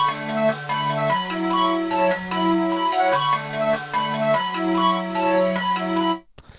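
A dry synth with no effects plays simple sustained chords with a plain melodic top line over them, loud and steady for about six seconds before cutting off abruptly.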